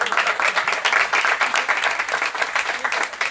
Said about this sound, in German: Applaus für diese komischen Mädels